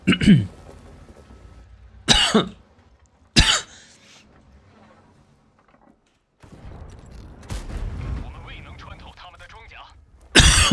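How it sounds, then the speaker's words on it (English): Several sharp, loud coughs burst out at intervals, with murmured talk and faint mechanical background noise between them. "Sorry for the cough, guys."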